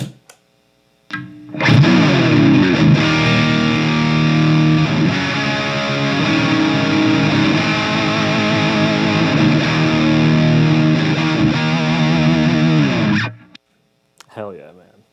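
A bass guitar runs through a Majik Box Doug Aldrich Rocket Fuel boost pedal, giving a loud, saturated, sustained tone with shifting notes for about twelve seconds, bracketed by brief quiet moments and small noises.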